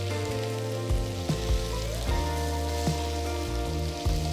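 Tomatoes and onions cook in a pan for tiffin-centre tomato chutney, making a constant rain-like sizzle under music, with a few soft knocks.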